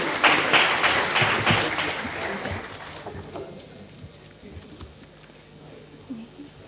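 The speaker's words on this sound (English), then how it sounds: "May we have a huge round of applause for him?" A hospitality HR summit audience claps for a speaker being honoured. The applause is loud for a few seconds, then fades into low murmuring and scattered voices.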